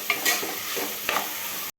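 Sweet corn kernels frying in a pan and being stirred with a spoon for a sweet corn rice, heard as a steady sizzle broken by a few sharp scraping stirs, fairly close and with no talking.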